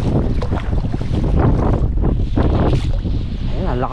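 Strong wind roars across a small fishing boat at sea during a typhoon, a loud, continuous gusting rush buffeting the microphone with sea noise beneath, and a faint voice at times.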